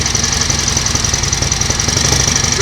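A 1938 Matchless 990cc Model X motorcycle engine, newly restarted after years laid up, runs steadily close by with a rapid, even mechanical beat that continues throughout, with no voices.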